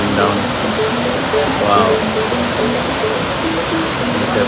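Famous waterfall in Ubud, Bali, pouring down as a steady, loud broadband rush of water filling the whole clip, with a brief voice exclaiming over it.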